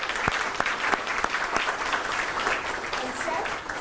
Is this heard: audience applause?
yes